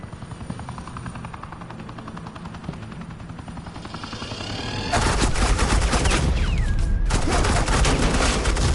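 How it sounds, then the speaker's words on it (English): Gunfire bursts rapidly in the Batman: The Enemy Within video game during a suppressing-fire moment, dense and loud over a roaring helicopter-like drone. "Suppressing fire."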